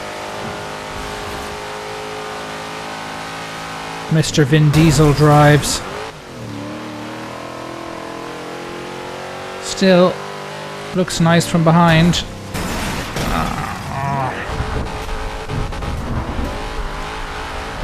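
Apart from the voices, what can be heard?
Dodge Charger RT engine accelerating in video game Forza Horizon 2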